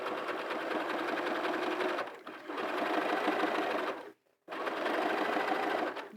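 A sewing machine runs steadily at speed, stitching a band onto the inside of a hat. It drones loud and close, with a short slowdown partway through and a brief full stop before it resumes.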